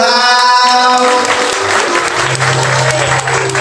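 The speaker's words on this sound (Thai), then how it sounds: "ปรบมือ" At a Thai wedding engagement ceremony, guests burst into close, lively clapping as a held musical tone fades out, the applause continuing strongly to the end with a low hum underneath.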